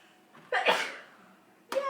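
A single sharp sneeze from a person bursts out loudly at close range, followed by a brief short sound, in a quiet room at home.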